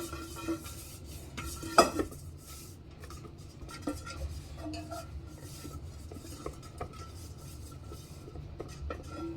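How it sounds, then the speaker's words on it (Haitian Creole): Light scraping and clinking of a utensil in a saucepan as a little oil is spread around to grease it before a stovetop cake, with small scattered taps and no talking. "Je mets un petit l'huile là-dedans. Un vieux petit l'huile, je mets dans la casserole là, juste pour me graisser li."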